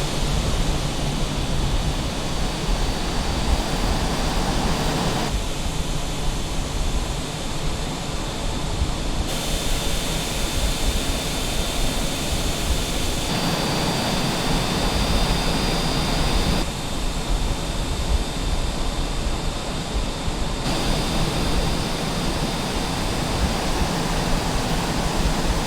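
Jet engine whine and rush from an Aero Vodochody L-39C taxiing in Microsoft Flight Simulator, a loud, steady broadband roar lasting throughout with slight shifts in tone every few seconds.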